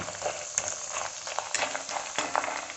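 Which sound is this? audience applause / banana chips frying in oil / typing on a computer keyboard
banana chips frying in oil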